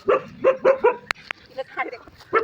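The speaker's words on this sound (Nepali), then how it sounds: "त्यहाँ कुकुर छ कुकुर" A dog barks several times in a quick series, then a couple of sharp clicks, then a few more scattered barks.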